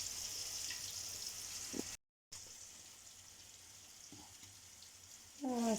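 Chicken and vermicelli cigars fry in hot oil, a soft steady sizzle with a short gap and a few faint clinks, swelling into a louder hiss at the end.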